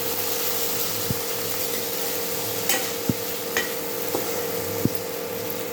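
Tomatoes stirred into a hot oil tempering of green chillies and coriander for paneer bhurji: a steady close sizzle broken by a few sharp knocks of a spoon against the pan, without any speech.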